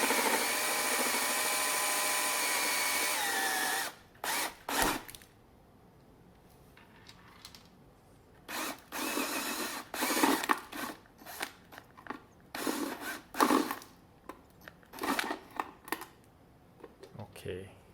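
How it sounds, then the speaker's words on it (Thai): A power drill bores through a plastic waterproof junction box for a 20 mm conduit connector, running steadily for about four seconds, then stopping and starting in short bursts with quieter handling sounds between. "เจาะต่อไปเรื่อยๆนะครับจนกล่องทะลุได้เลยนะครับ"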